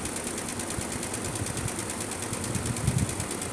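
An embroidery machine stitches the number 11 onto a hat, running with a fast, even mechanical whir and a rapid repetitive needle chatter that holds steady and close throughout.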